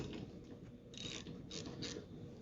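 Ratchet wrench loosening the 14 mm wiper arm nuts on a 2003-2008 Toyota Corolla, Matrix or Pontiac Vibe, giving steady close clicking with several brighter bursts of rapid pawl clicks, no talking.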